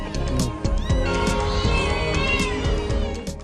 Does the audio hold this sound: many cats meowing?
yes